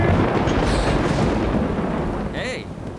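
During a storm, a heavy, continuous thunder rumble rolls loudly throughout, a deep roar that fades slightly near the end, with a brief squeaky tone over it.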